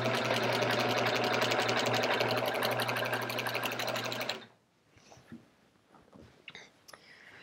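A sewing machine with a walking foot quilting a chevron quilt, running loud and steady with a rapid mechanical stitching rhythm for about four seconds before it stops, followed by faint handling noises.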